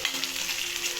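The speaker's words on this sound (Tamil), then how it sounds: "சேர்த்து நல்லா கிண்டி விடுங்க." Curry leaves crackle and sizzle in hot oil in a pan, a dense, steady frying hiss with faint stirring scrapes throughout the short stretch.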